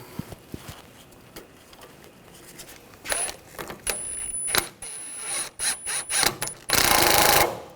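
A ratchet tightens a bolt on the rear upper control arm bracket of a 2013–2022 Buick Encore, producing rapid clicking bursts at close range after some quieter handling noises, ending in a louder mechanical rattle.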